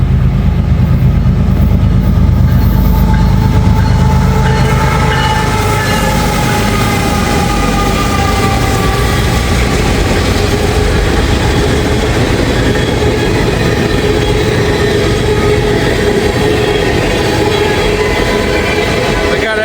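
An empty ethanol freight train rolls past a trackside spot at Glendale, a steady loud rumble of railcars and wheels that holds without a break from start to finish, with a deeper engine drone at the opening.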